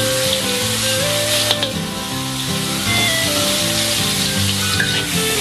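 Steady, loud sizzling of ground spice paste frying in hot oil in a wok, crackling continuously with faint stirring scrapes and no voices.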